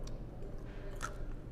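A bite into crunchy, crispy pata pork knuckle, heard as faint close chewing and crunching for a moment against a low background hum.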